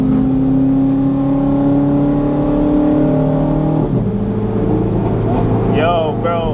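A Chevrolet Corvette C8 Z06 accelerates hard on a late-night Miami drive, its loud engine roar rising steadily through a gear shift and continuing strong, with excited voices talking over it.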